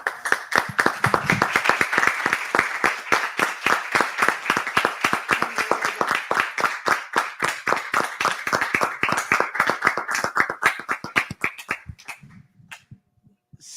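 A crowd at a journalism book event applauds a guest, a rapid rhythmic stream of sharp, close claps that holds strong for about twelve seconds, then thins and fades out.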